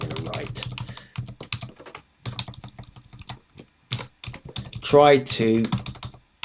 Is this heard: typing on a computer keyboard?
yes